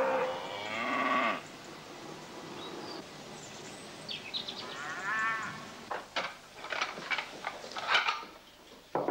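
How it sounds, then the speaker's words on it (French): Dairy cows and calves moo on a farm in a Breton village, a long low call opening the clip followed by further lowing and overlapping bellows at moderate distance, with no talk. "Cet élevage s'ajoute à l'élevage des vaches laitières et des veaux de boucherie."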